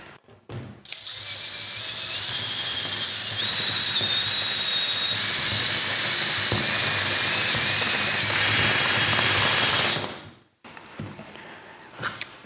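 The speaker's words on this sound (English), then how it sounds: "Now I go at it with a step drill." A step drill cuts a hole in new sheet metal during ductwork in a Victorian house, a steady loud whining grind with rising whistling tones that lasts about nine seconds, then stops abruptly, followed by a few faint clicks.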